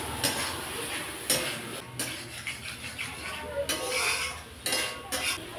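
Fried potatoes get stirred into a masala in a pan, with clattering metal-on-pan scrapes and knocks in irregular bursts over a soft, low sizzle; a voice talks in places.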